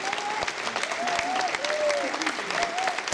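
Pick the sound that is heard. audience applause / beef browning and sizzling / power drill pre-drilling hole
audience applause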